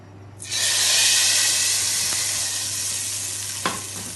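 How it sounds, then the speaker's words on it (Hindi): A sudden loud sizzle erupts as hot cumin tempering hits a pot of Hyderabadi haleem, then settles into a sustained hiss and crackle, with a faint clink near the end. "अब इसमें हम जो हमने ज़ीरे का तड़का तैयार किया है वो ऐड करेंगे इसमें"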